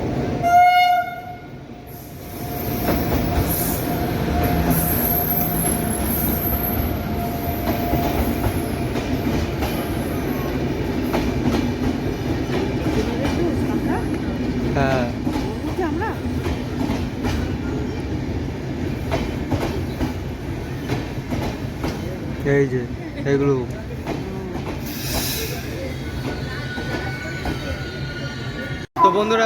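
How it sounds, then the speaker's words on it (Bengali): The Howrah–Radhikapur Kulik Express rolls into a station platform with a steady, loud rumble of wheels and carriages and a squeal of wheels, and someone speaks briefly over it. "এদিকে এখন যে ট্রেন আসবে বন্ধুরা সেটি হলো হাওড়া রাধিকাপুর কুলিক এক্সপ্রেস"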